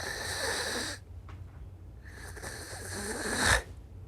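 A man imitates the snoring of someone with severe sleep apnea: a harsh, rattling snore, then a quiet pause, then a second raspy snore that ends in a sharp snort.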